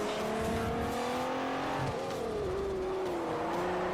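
Racing cars in Forza Motorsport 4, including a Lamborghini Aventador, roar and rev at steady high pitch, engine tones sliding up and down through gear changes, with a brief dip near the middle; loud and continuous with no talk.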